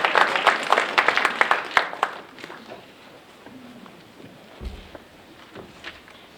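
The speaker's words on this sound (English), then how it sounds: "Give yourself a round of applause." An audience at an African American Read-In community sing claps for about two seconds in a lively burst that quickly thins to scattered claps, followed by quiet room noise and faint shuffling.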